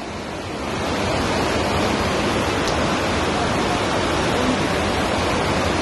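Floodwater after the Wayanad landslide rushing past a destroyed school: a loud, steady, broadband roar of fast-moving water, continuous and unbroken, rising slightly at the start and then holding level.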